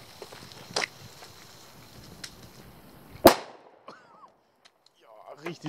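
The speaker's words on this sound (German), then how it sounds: "das ist jetzt der lauteste Böller, den wir hier getestet haben" A single sharp, loud China Böller firecracker blast stands out near the middle of the clip, preceded by a couple of faint clicks and rustles and followed by quiet handling noises outdoors.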